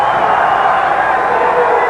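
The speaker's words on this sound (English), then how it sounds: "Crowd here in Kissimmee, incidentally, pretty mixed in its support of these two countries" A boxing crowd in Kissimmee at an amateur bout gives off a steady, loud roar of cheering and murmuring that fills the arena without a break.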